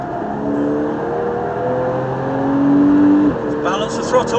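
At Silverstone, a car's engine hums inside the cabin and its tone climbs as the throttle is applied, then eases off. A steady, close drone runs throughout.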